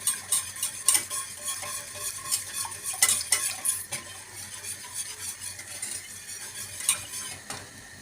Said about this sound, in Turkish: Kaynayana kadar karıştırıyoruz.